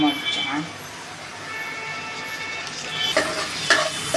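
Tomatoes and chillies hit a hot oil tempering for dal, a continuous frying sizzle with a couple of sharper crackles and utensil knocks near the end, heard beneath someone talking.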